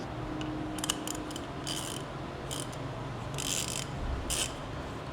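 Ratchet with an E18 socket tightening the caliper bracket bolts on an Alfa Romeo Giulia or Stelvio, several short bursts of quick clicking ratcheting separated by pauses, close and fairly quiet.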